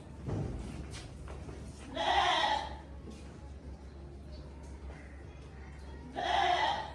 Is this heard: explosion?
no